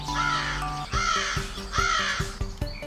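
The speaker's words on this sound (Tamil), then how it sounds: "காகம் எப்படி கத்தும்?" A crow caws loudly several times in a row, harsh repeated calls close by.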